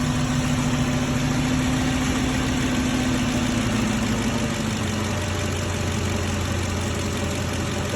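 A 5.4L 3V V8 in a 2006 Ford F-350 idles steadily just after its first start following an engine install, a continuous mid-low rumble with a slight change in pitch midway, no voices over it.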